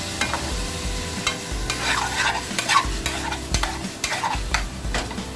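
A king prawn curry sizzles and fries in a pan while being stirred, with loud continuous crackling, close up, and repeated scraping strokes of the utensil through the sauce.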